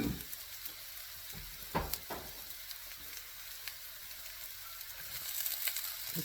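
Rice, peas and carrots frying with onions in a pan give a faint, steady sizzle, broken by a few light knocks of stirring.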